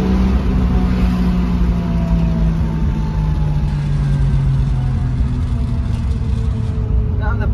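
A 1966 Ford Mustang engine drones steadily and strongly on a city street in Bangalore, with the pitch shifting slightly as it pulls, while people talk over the engine noise.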